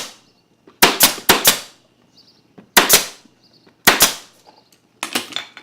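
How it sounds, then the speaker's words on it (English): A staple gun fires through upholstery fabric while a sofa is covered, giving sharp, loud snaps. They come singly and in quick pairs, with short silences between them. "Let me staple this here."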